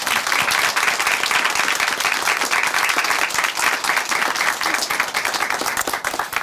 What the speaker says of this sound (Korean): 다시 한번 큰 박수 보내드릴게요